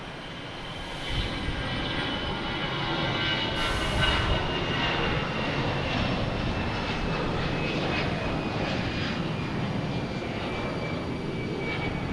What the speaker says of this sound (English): Here's American Airlines, A319 heading to DC.